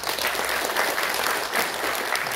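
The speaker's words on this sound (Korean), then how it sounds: "박수 한번 부탁드립니다." A crowd applauds steadily at an opening ceremony, many hands clapping at once in a dense, even roar of applause.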